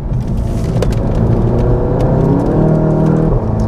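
A VW Golf GTI Mk7.5 engine revs up and shifts through the gears under hard acceleration, a loud continuous exhaust note rising and falling with crackles, up close throughout.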